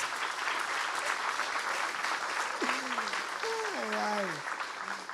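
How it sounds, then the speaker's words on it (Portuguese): A church congregation applauds in sustained, dense clapping while voices call out over it. "Aplauda Jesus, que Ele é maravilhoso."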